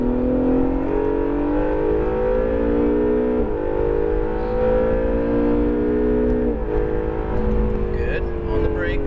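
An Acura NSX engine pulling hard on throttle around a track, a loud close-up rising rev with two brief dips at the gear shifts, under a driving instructor's continuous coaching voice.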